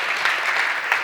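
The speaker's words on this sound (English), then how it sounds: "please, a round of applause for our tech guys" A room full of people applauds a tech team after a banking chat-integration demo, steady dense clapping throughout with no talk over it.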